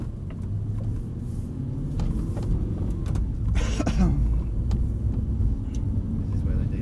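Audi R8 on the Dunsfold race track, a steady loud engine drone and road roar throughout with a brief rise in revs midway, while people talk over it inside the car.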